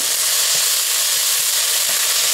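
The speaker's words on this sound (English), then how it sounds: "now I'm going to add my colorful peppers" Colorful peppers sizzle steadily in a hot pot for baked spaghetti, a loud, close, even frying hiss with faint stirring knocks, no voices.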